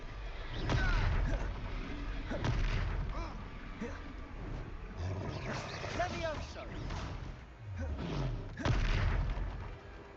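Confringo blasting spells in Hogwarts Legacy, cast over and over in a duel: a series of booming fiery blasts spaced a couple of seconds apart, mixed with game effects and voices talking over them.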